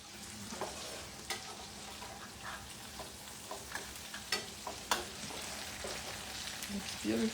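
A crispy pork cutlet sizzles in a pan on the stove, a steady fry with scattered pops and crackles that stay close and moderately loud, with no one talking.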